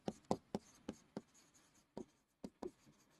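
A pen or chalk writing an equation by hand during an eighth-grade lecture, a series of sharp scratchy strokes and taps at an uneven rhythm, close and clear with no talk.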